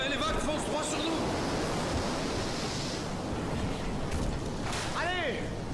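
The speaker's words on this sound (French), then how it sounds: "la tempête se lève. Oh, j'en ai peur, et les vagues foncent droit sur nous" A storm rising at sea with waves driving toward a Viking longship: steady, loud roaring surf and wind noise fills the whole stretch, with a brief vocal-like cry near the end.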